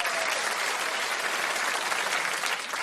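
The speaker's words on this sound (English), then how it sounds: "Give him a round of applause." A studio audience claps for a game show contestant on a TV comedy programme, a thick, continuous wash of applause holding steady at full volume throughout.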